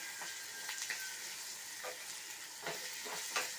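Onion and green chilli sauté in a pan with a soft, constant sizzle, broken by several quiet scraping stirs, close by and with no talking.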